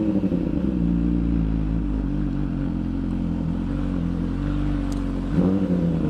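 MV Agusta Superveloce sport motorcycle idling nearby, a steady low engine rumble with faint clatter and a slight rise near the end as it pulls up.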